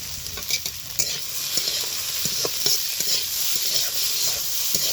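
Shredded potato with onion, green chili, garlic, turmeric and salt fries in oil, a bright continuous sizzle over repeated close spatula scrapes and taps, fairly loud, with no talking.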